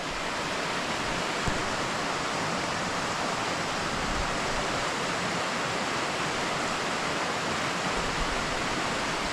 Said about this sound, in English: it's quite a nice waterfall there where it's getting pushed through the rocks